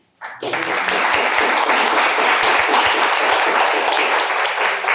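An audience at a poetry translation award ceremony breaks into applause, a sudden onset of many hands clapping that stays loud and even for several seconds, with a few sharper individual claps standing out.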